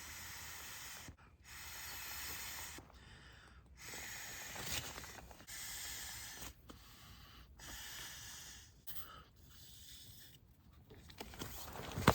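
Air hisses steadily from the opened valve of an old Thermarest ultralight sleeping pad, a close, soft, continuous rush broken by several short gaps and handling rustles.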